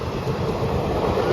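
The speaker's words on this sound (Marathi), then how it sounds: "ट्रेन जाते" A train rolls past nearby on the way to a market, a loud steady rumble with wheel clatter that fills the short moment with no talk.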